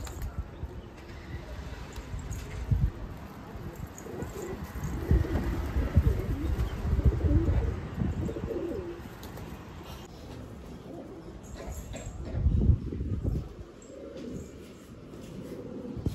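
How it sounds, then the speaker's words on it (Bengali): White pigeons cooing softly outdoors in clear daylight, low repeated coos blending with rustling and background noise, a few louder bursts, no voices heard. "সাদা পায়রাটা এসছে, খুব সুন্দর লাগে দেখতে"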